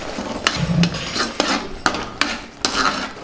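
A spoon stirs spiced potato curry in a pan, giving close, repeated scraping strokes and metallic knocks at a steady rhythm over a faint sizzle.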